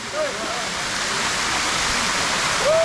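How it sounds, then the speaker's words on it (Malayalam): A small waterfall stream pours down from a hilltop, producing a steady, loud rushing hiss of falling water close by, with faint voices barely audible beneath it. "ആ ടോപ്പിൽ നിന്ന് നല്ല വാട്ടർ സ്ട്രീം ചെറിയ വെള്ളച്ചാട്ടം ഇങ്ങനെ താഴേക്ക് ഒഴുകി"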